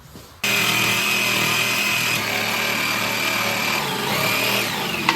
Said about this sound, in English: let's cut that out with the bandsaw